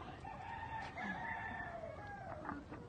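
A Cowan gamecock crows among Kelso hens on a farm: one drawn-out, wavering crow near at hand, fairly faint, over soft clucking and background noise, no talk.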